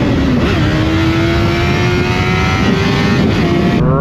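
A motorcycle engine revs hard and holds a high, steady whine under acceleration, loud and close throughout with a smooth climbing pitch and a brief change near the end.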